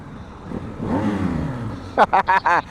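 BMW R1250GS Rallye engine swelling through a single rising rev that then falls away. A voice talks over the engine, and a few short bursts of other sound follow the rev.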